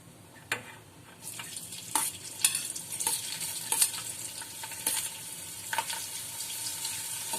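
Asafoetida and green chillies crackle and sizzle in hot oil in a pan for Malvani-style fenugreek leaf bhaji, with a steady frying hiss broken by sharp spattering pops and a few clinks from stirring.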